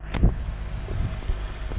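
A car idles with its patched exhaust refitted, a low, steady rumble close by with a few brief bumps and some wind buffeting the microphone.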